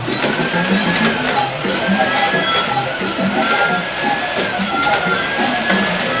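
Early electrical household appliances in a Magic Kingdom animatronic show, humming and whirring steadily like a motor or vacuum with a faint wavering whine, under a continuous background of theater ambience and faint voices.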